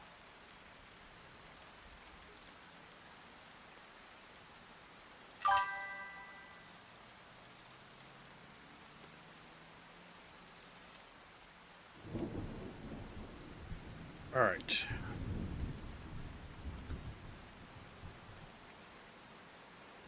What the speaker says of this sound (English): I wish this rain would stop so we could harvest out of the field.